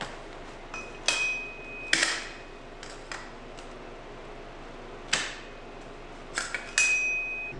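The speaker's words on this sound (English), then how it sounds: "I like to first take that and get that steel seal started in there with the seal driver" Sharp metallic taps of a hammer on a seal driver, seating a steel fork seal in a 2019 Harley-Davidson Fat Boy fork, about six spaced strikes with ringing clinks, close in a quiet garage.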